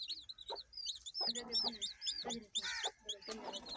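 Several hens cluck in short, uneven bursts close by on a poultry farm in Punjab, Pakistan, mixed with high chirps from chicks; a voice murmurs briefly underneath.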